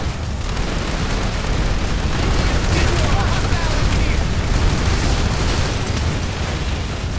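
Gunfire and explosions in the video game PlanetSide 2, with a dense, loud, unbroken wall of shots and blasts filling the whole stretch.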